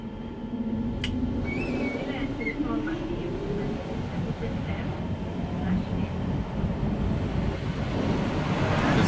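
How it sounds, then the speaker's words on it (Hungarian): Side brushes at a train wash scrub the underside of an X61 electric train creeping through the wash in Gothenburg, a steady rushing, swishing wash noise that stays close and loud and never stops, with a few faint squeaks over it. "bejöttek az oldalkefék is, amik megmossák a járműnek az alját is"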